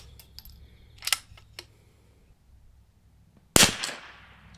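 A single loud, close crack from a custom 22LR rifle near the end, preceded by a few small clicks and handling sounds, with a short decaying tail after the shot.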